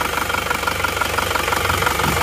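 A car engine with a blow-by fault runs at held revs on the gas, a steady loud mechanical drone with a fast knocking pulse throughout and no talk.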